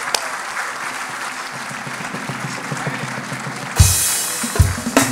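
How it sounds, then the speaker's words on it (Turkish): Audience at a Turkish classical music choir concert applauds a young soloist, steady loud clapping throughout with a couple of sharp bumps near the end. "Azize Gül Ulusoy'u alkışlıyoruz."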